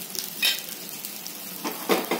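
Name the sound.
oil sizzling around uttapam on pan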